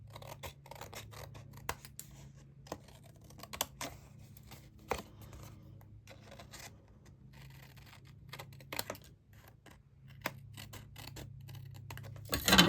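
A paper trimmer cuts patterned paper for a hexagon-punch card, making quiet, crisp clicks and short slicing snips. They come in irregular bursts over a low hum, with a louder clack at the very end.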